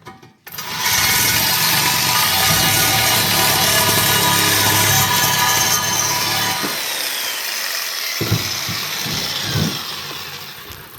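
Loud, continuous cutting on a homemade air-to-water charge cooler for a 306 Foxbody, a steady harsh whine and rasp that runs for several seconds, then stops abruptly and gives way to a few scattered knocks and scrapes.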